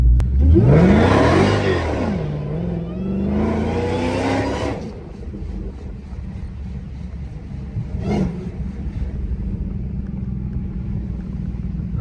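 A Dodge Hellcat SRT driven late at night, its engine revving hard twice with loud rising, roaring sweeps. It then settles into a low, steady rumble, with one brief sharp burst later on and no talking.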